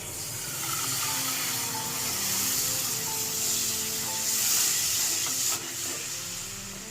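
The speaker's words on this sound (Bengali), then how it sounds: "আগে থেকে চিকেন সেদ্ধ করে স্টক বানিয়ে রেখে দিয়েছিলাম, এটা হচ্ছে এর মধ্যে দিচ্ছি।" Homemade chicken stock hits a hot pan in a butter garlic chicken dish, a steady broadband hiss and steam sizzle running the whole stretch without pause, fairly close, with no talk over it.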